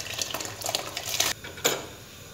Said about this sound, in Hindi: इसमें मैं डालती हूँ अब चावल।